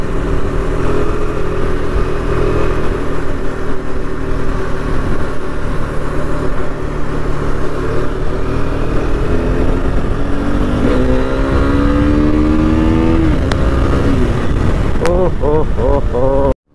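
KTM RC390 motorcycle accelerating hard, a loud continuous engine drone with harmonics climbing steeply through quick gear changes toward the end, with a voice talking over it at times.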